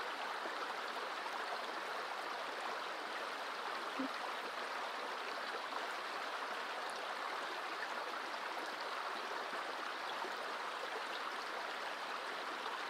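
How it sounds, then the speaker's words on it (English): River water flows over rocks in a steady, even rush with no breaks, close and moderately loud, with no voices. "listening for the movement of water"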